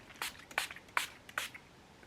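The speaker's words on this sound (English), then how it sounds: "I'm just taking my Revolution Hydrate and Fix Setting Spray and we're just going to set the" Four short, crisp spritzes of a setting spray misted onto a face close by, spaced about a third of a second apart in a quiet room.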